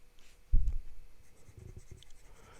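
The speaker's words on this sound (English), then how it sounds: "And this is quite a wet writing nib, but also a wet writing ink as well." A Visconti Homo Sapiens Caput Mundi fountain pen with a wet medium nib and wet ink writing on paper, giving a soft scratchy stroke with a light tap at the start, close and quiet.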